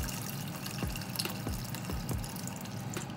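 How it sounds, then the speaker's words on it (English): Boiled water is poured into a pot of roasted butternut squash, sweet potato and lentil soup. A steady splashing pour runs throughout, with a few low gurgles and drips. "I'm just going to add ready boiled water"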